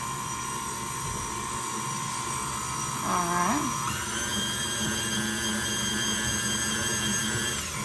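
A KitchenAid stand mixer on low speed creams butter and sugar, giving a steady close motor whine with a continuous drone that shifts briefly in pitch midway, then runs on evenly to the end.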